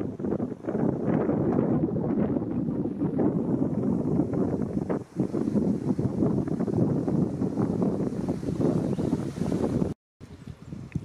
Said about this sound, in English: It's been a windy old day